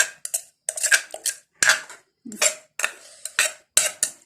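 A wooden pestle pounds som tam in a mortar, giving sharp irregular knocks and clatters in quick bursts with short pauses, close and loud without any talking.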